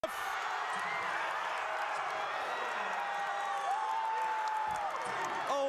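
A college basketball arena crowd between Portland State and Southern Utah roars and cheers steadily after a big play. The noise is loud and sustained, with whoops and a whistle on top, and a commentator talks over it.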